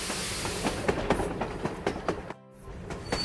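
Toy LEGO train locomotive sound effect: steady rhythmic clickety-clack of wheels over rail joints with a rolling rumble, briefly cutting out near the end before resuming, no talk.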